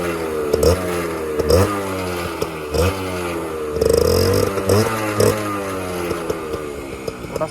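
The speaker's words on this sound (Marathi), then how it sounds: "थोडासा आवाज इंजिनचा." A Suzuki Max 100 two-stroke motorcycle, a modified bike, revs up close by in repeated short bursts. The engine climbs sharply to a buzzing, rattling pitch and then drops back to a choppy idle, with no one talking.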